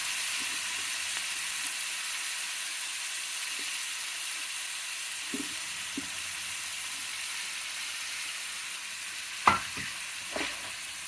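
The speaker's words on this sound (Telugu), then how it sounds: "ఇప్పుడు వేగినాయండి ఉల్లిపాయలు" Chopped onions fry in a pan at home for a Telugu lunch dish, making a steady hissing sizzle with a few scattered taps and scrapes near the end.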